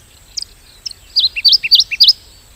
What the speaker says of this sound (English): the song of dusky is much more feeble, slower, lacking those strong trills